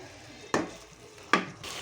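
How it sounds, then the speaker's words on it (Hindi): Keema fries in ghee in a pan with a quiet, low sizzle, interrupted by two distinct spoon knocks and stirs against the pan, close and fairly soft. "घी को डाल के अच्छी तरह से हम इसे भूनेंगे"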